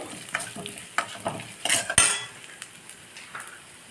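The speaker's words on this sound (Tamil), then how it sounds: "இப்போ அரிசியை நல்லா வறுத்துட்டு" Rice roasting in a pan for milk payasam is stirred with a metal spoon, giving irregular clinks and scrapes against the pan over a faint, quiet sizzle.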